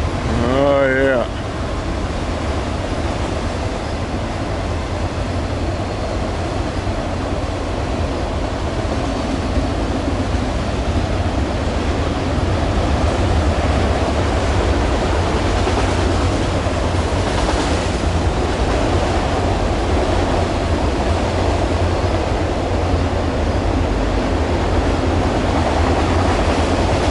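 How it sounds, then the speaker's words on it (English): A long train rumbles steadily past for nearly half a minute, a broad continuous roar heard from nearby outdoors with a brief whistle-like tone near the start. "That's a long train."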